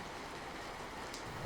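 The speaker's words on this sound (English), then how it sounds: "given the storm and the rain, and the occasional crash of thunder and blinding lightning" Rain falls steadily in stormy woods, a dense, even hiss of drops that stays constant throughout the short stretch, with no voices and no thunder.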